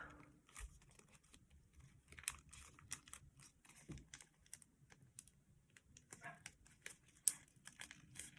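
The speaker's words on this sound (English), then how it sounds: "I'm going to crease it a little bit harder" A folded paper airplane modeled on a Sukhoi SU-57 Felon being creased harder: faint, scattered crinkles and soft paper taps, close by, in an otherwise quiet room.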